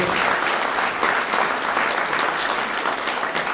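An audience applauds an executive director stepping down after six years, a dense, steady wash of many hands clapping close by that holds at full strength for about three and a half seconds.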